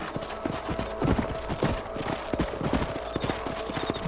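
Horse hooves clip-clop at a steady riding pace in the Red Dead Redemption video game, close and fairly loud, with rhythmic hoofbeats over a low ambient bed.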